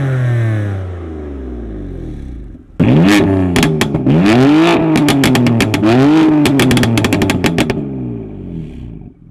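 Stock exhaust on a BMW M3 F80 Competition, first idling, then sharp repeated throttle blips that rise and fall, loud and close, with crackling bursts between revs.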